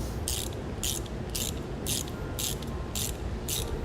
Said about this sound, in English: we're going to tighten this down with a 7/16 wrench and socket, just so it's snug